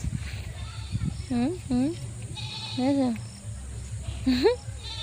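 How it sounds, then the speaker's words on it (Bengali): A young calf at a rural homestead calls out four times in short, rising bleats, close by, with a person talking over steady background noise. "আর এটা হচ্ছে এই দেখো বাছুর আমাদের"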